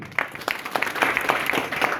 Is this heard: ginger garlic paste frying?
no